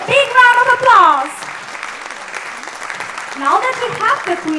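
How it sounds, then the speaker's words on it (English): Audience applause for the outgoing queens at a Queens of Germany 2023 event, a moderate clapping wash running steadily beneath a host's voice, which speaks at the start and again near the end. "Let's give our queens a big round of applause."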